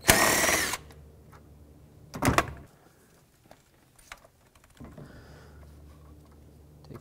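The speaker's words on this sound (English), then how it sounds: "One more bolt here to take off, for the ground strap." A power tool gives two short, loud whirring bursts, one at the start and one about two seconds later, while removing a ground strap bolt during a clutch replacement on a 2006-2011 Honda Civic. Quiet clicks and handling noises follow.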